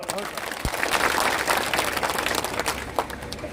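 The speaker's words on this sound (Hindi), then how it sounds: "तो इसके लिए बहुत सारी तालियां बजाओ एक बार" An audience at a public gathering in Mewat, where a police superintendent is speaking against drug trafficking, breaks into dense applause, a continuous crackle of many hands with crowd murmur underneath, loud and sustained throughout.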